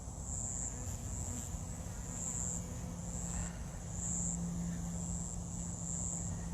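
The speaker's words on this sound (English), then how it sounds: "Those are all nurse or worker bees." Honey bees hum steadily inside an open hive of nurse and worker bees, a close, dense, continuous buzz that stays even throughout, with no talk over it.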